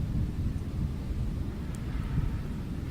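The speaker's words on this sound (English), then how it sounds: "But it's really windy." Steady wind buffets the microphone with a constant low, rumbling roar, no voices heard.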